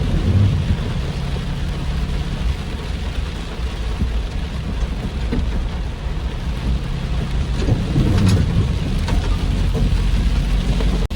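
A random storm over flooded ground, with heavy rain pouring steadily close by and deep thunder rumbling underneath, one louder roll near the end, no talking.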